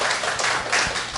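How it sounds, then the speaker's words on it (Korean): A church congregation claps together in a brief burst of applause, a dense even patter of many hands that fills the room. "우리 박수로 한번 해요"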